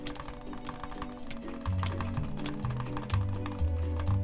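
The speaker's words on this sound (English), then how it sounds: "you can hear the sweaty man's mouse clicks." Rapid, sharp computer mouse clicks rattle continuously during a Minecraft Bedrock factions fight, over low sustained game music tones.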